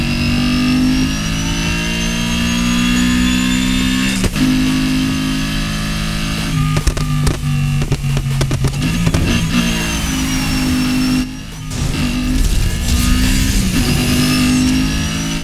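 In the racing game NFS Heat, a Ford Focus RS swapped to a 4.0 V8 revs and accelerates, its engine note rising and falling through gear changes with a brief dip partway, loud and close.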